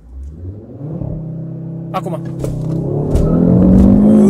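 Audi RS3 launching hard from a standstill in a 0-100 run, engine note climbing steadily from a low rumble to a loud strained roar, with someone speaking briefly over it.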